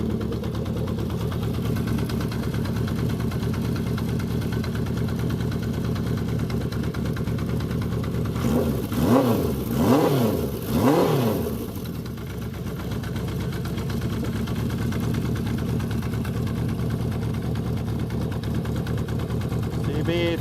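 Honda CB350F motorcycle engine idling steadily after a cold start, with a pair of quick throttle revs rising and falling midway before settling back to a steady idle; the timing chain may be loose.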